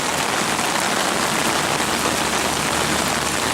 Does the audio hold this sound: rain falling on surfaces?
yes